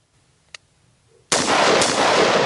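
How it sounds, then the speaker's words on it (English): A carbine rifle fires at close targets, a sharp click followed by a loud blast with a sustained ringing burst of shots filling the last second, close and harsh. "I'm really close and I'm firing a rifle."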